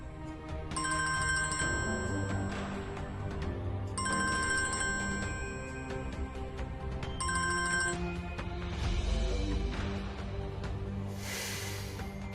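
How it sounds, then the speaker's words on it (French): A telephone rings in three repeated electronic bursts with pauses between them, sounding steady and moderately loud, followed by a brief rustling noise. "Décroche le fichu téléphone."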